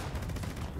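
Gauss minigun firing in Fallout 76, a dense, continuous rapid-fire rattle of shots, close and steady throughout the brief burst.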